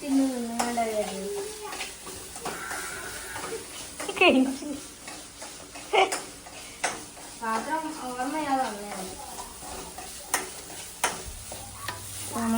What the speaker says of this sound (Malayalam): നമ്മൾ ചിക്കൻ ഫ്രൈ ഇവിടെ റെഡിയായി